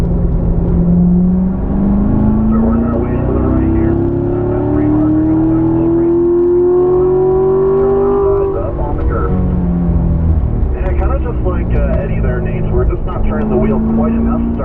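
Corvette lapping a race track through corners at a driving school, its engine note rising and falling steadily as it brakes and turns, with an instructor talking over it throughout.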